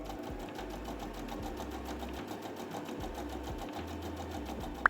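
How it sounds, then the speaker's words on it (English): A sewing machine stitching a beginner tote bag, its speed set by a foot pedal, gives a steady, continuous mechanical whir that holds an even rhythm throughout, close and alone, with a brief click at the very end. "The speed of the machine is controlled through the foot pedal"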